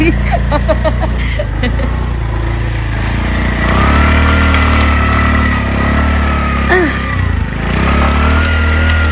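A vehicle engine idles steadily and close by, a constant low rumble heard under people talking and calling out at a roadside stop.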